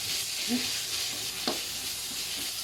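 Northern Thai curry paste stir-fried in a pan, a steady close sizzle with occasional scraping stirs.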